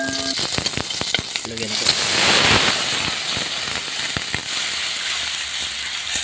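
Garlic and onion sauté in hot leftover oil in a pan for fried milkfish tinola, giving a steady sizzle with sharp pops and crackles close up while a person speaks briefly.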